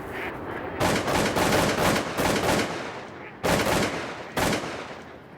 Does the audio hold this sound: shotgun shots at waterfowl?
yes